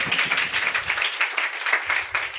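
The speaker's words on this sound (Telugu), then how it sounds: "చప్పట్లు కొట్టి ప్రభుని ఘనపడతాం." A congregation at a Sunday church service claps hands together in a fast, even rhythm, a continuous run of crisp pulses filling the room.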